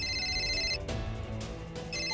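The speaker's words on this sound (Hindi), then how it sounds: "फोन बज रहा।" A telephone rings with an electronic tone in two bursts separated by a short pause, fairly quiet and close.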